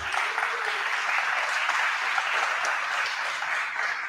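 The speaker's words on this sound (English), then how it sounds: "give a quick round of applause for all of the many people working behind the scenes" An audience at a product-team conference gives a round of applause for behind-the-scenes volunteers, steady mid-level clapping from a crowd heard at some distance throughout.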